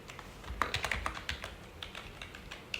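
Someone types a collection name on a computer keyboard, a quick run of light, close key taps at an uneven pace with no talking.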